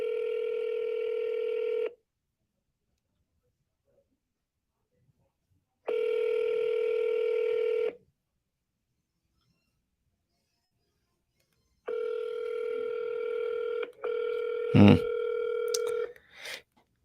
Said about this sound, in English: Make sure I dialed the number correctly.